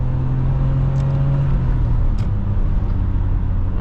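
A 1992 BMW E34 520i with the M50 engine pulls hard at full throttle in third gear, a steady loud engine drone heard from inside the cabin with road rumble beneath, pitch holding fairly even.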